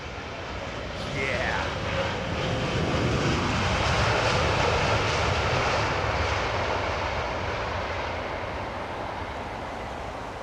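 Airbus A330 jet climbing away from Heathrow runway 27R, a broad steady roar of engines swelling over the first seconds and holding loud throughout, with faint voices underneath.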